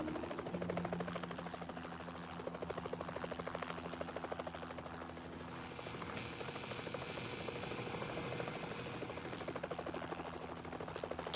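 A helicopter hovers close to a high-voltage power line, its rotor beating in a continuous rapid buzzing throb with a steady engine whine and a brief rushing burst midway.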